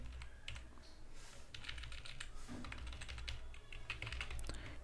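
Someone types on a computer keyboard, producing rapid, irregular taps and clacks at close range, quiet and steady with no speech.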